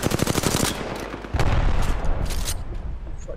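Bursts of gunfire in the Apex Legends battle royale video game, an opening rattle of rapid automatic shots followed by a heavier, louder volley, close and loud with no talk over it.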